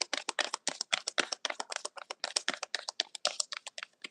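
A tarot deck shuffled by hand, giving rapid, dense flurries of crisp card clicks and snaps close up, with no voices.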